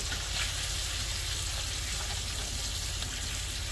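A carnivore scramble sizzles loudly and continuously in a hotel-room pan, a close, dense crackling hiss with faint scraping from stirring.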